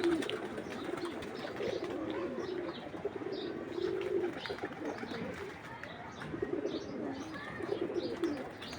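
Pigeons coo repeatedly in a loft where the birds have just been released to sun themselves, soft low calls recurring steadily with chirps and faint bird sounds around them, moderately near.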